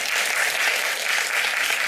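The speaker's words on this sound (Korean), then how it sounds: "아까 맞추신 분한테 박수 한 번만." Steady audience applause fills a seminar room during a talk on building an iOS diagnostic environment, dense and even clapping from a small crowd for just under two seconds, with no voices over it.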